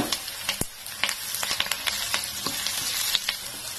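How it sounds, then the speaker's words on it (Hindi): Curry leaves dropped into a frying pan with browned onions for poha, a close continuous sizzle with bursts of spitting crackles and stirring scrapes, no voices. "अब इसमें जितनी थोड़ा सा करी लीव डाल देंगे"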